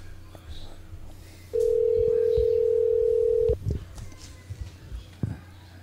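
A single long telephone ringback tone of about two seconds sounds while a friend is being called, heard with faint room noise and brief bumps around it; speech occurs nearby.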